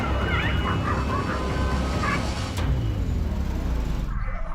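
Stray dogs in a town lane yelp, whimper and bark while a municipal team tries to catch them, a few short cries rising over dense outdoor background noise and passing traffic.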